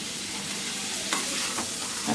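Bitter gourd sautés in oil with a continuous close sizzle, broken by a few scraping stirs of a spoon against the pan.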